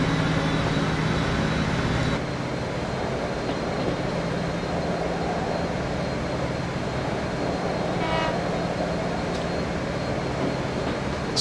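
A train runs in the railway-building game Transport Fever 2 on a Jeseník region line, a steady low rumble of wheels and wagons throughout with a brief horn-like tone, no talk over it.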